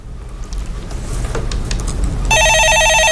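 Ambient noise and faint scattered clicks in an office setting give way near the end to a telephone ringing loudly, a bright electronic ring that keeps on to the close.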